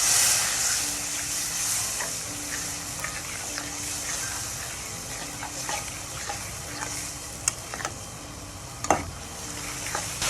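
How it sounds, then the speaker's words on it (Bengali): Spice masala with cumin powder sautéing in oil, a steady close sizzle with scattered stirring scrapes and a few sharper clinks near the end; no voices. "আমি মশলাটা ভালোভাবে কষিয়ে নিচ্ছি, দেখেন মশলা থেকে তেল ছেড়ে দিচ্ছে।"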